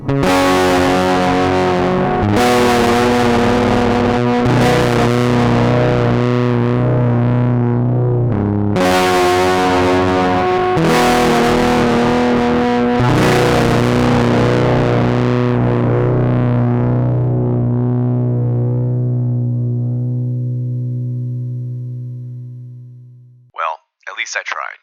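Fuzzed glide guitar on a hollow-body Ibanez Artcore with humbuckers and a Bigsby-style tremolo, loud sustained chords struck several times and bent with wavering pitch, then ringing out and fading to near silence before a brief final burst.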